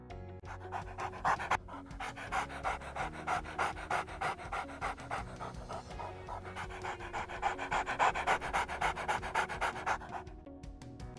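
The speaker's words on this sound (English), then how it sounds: "It's a dog." A dog pants close by in a steady, rapid rhythm of short breathy huffs that continue throughout, with a brief pause partway through.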